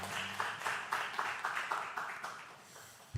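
A church congregation gives applause welcoming a missionary at a testimony revival meeting, a faint, fairly steady patter of many hands clapping with rhythmic surges.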